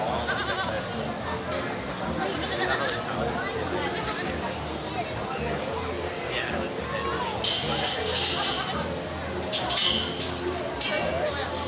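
Goats bleat while being fed at a petting area during Sawdust Days 2012, their calls rising now and then over a steady crowd hubbub and people talking nearby.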